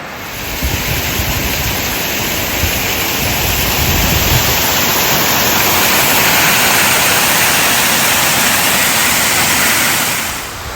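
Jackson Falls roars continuously with a dense, loud, hissing rush of falling water, steady throughout with no voices.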